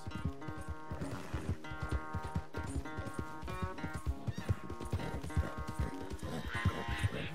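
A horse in Red Dead Redemption 2 whinnies over quick, steady hoof clops, loud and close, with a busy, music-like layer running underneath throughout.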